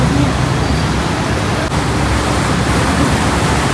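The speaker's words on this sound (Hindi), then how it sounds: "ये तो जैसे गंगा जी में रैपिड उठते हैं वैसे रैपिड उठ रहे हैं चौराहे पर" Floodwater in a Haridwar street churns like river rapids after a cloudburst, a loud, dense, unbroken roar of rushing water filling the whole clip with no break.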